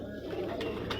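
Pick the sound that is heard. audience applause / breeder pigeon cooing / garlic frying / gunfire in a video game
breeder pigeon cooing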